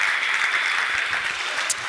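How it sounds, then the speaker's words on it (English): Applause from an audience rising to honour a pastor at a political gathering: dense, steady clapping from a standing crowd, loud and continuous throughout, with no talk over it. "Comrades, stand up and give a big round of applause to Pastor Skhosana."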